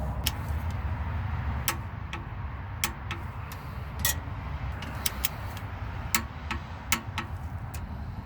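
A torque wrench clicks as 9/16 starter bolts on a small-block Chevy V8 are tightened, giving sharp irregular ticks and clacks over a low steady hum in a workshop.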